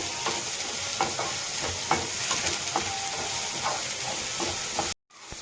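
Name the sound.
grated carrot and beans frying in a pan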